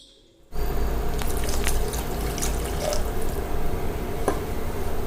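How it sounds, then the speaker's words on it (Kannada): Two glasses of water poured into a pressure cooker for egg biryani, a steady close rushing splash running continuously after a brief quiet start. "ಹಾಗಾಗಿ 2 ಲೋಟ ನೀರು ಹಾಕ್ತಿದ್ದೀನಿ"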